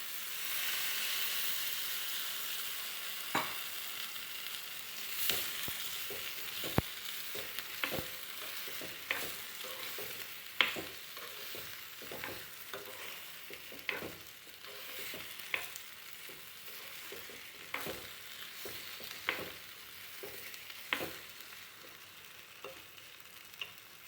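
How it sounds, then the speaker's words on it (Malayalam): A curry of long beans and raw plantain bubbles in a pan, a soft, steady simmer broken by frequent sharp clicks and stirring knocks at irregular intervals, with no voices. "അങ്ങനെ കറി തിളച്ച് വരുന്നുണ്ട്"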